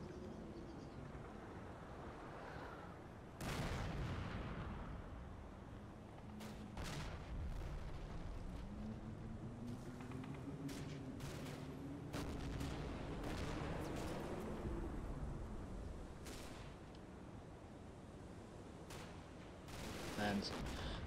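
Mortar shells strike a sunken lane in a combat video game, a string of sharp distant impacts and booms scattered through about twenty seconds of rumbling battle ambience, with a low droning tone beneath.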